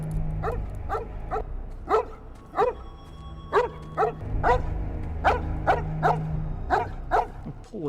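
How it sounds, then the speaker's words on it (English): A dog chained to a fence barks in a Smallville episode, a string of sharp, evenly spaced barks and yips over a low background hum, with no talk. "Poor dog's just chained to a fence."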